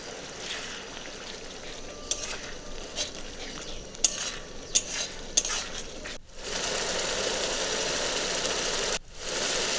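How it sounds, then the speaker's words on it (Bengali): Masala spiced with Kashmiri chili powder is stirred and fried in a pan for a dhaba-style egg tadka, giving a steady close sizzle with scattered scraping clicks, then a louder continuous frying hiss in the second half with one brief break. "মশলাটা ভালো করে কষে নিচ্ছি। নেড়ে নিলাম।"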